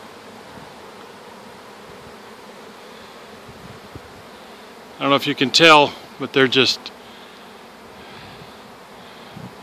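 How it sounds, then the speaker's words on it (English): A honey bee swarm hums around a hive box in a side yard by a garage, a steady faint buzz under outdoor ambience while someone speaks briefly midway. "a whole bunch of bees swarming around here, around to our side yard by our garage."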